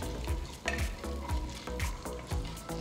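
Mustard seeds, chana dal, urad dal and cumin fry in hot oil in a pan, making a close, steady sizzle with repeated sharp pops and crackles as the seeds burst, while a spoon stirs now and then.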